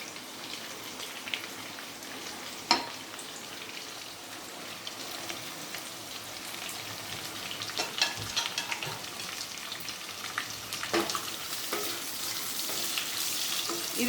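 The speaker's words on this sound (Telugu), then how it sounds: "ఇవి కొంచెం బ్రౌన్ కలర్ వచ్చే వరకు ఫ్రై చేసుకోవాలండి ఆనియన్స్" Sliced onions fry in a pan for mutton keema biryani, a steady close sizzle and crackle with occasional sharper pops and stirring scrapes, no voices over it.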